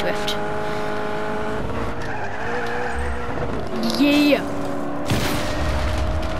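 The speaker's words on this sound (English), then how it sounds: "Time to do some drifts." Game car in Just Cause drifting through a corner, steady engine drone with a rising squeal of tires, a louder screech near the end, while someone talks over it.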